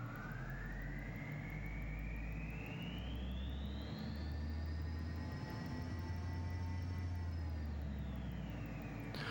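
Learjet 35A jet engines running up in Microsoft Flight Simulator 2024, a steady loud turbine roar with a whine that rises in pitch and then holds, continuous and close, with no talking.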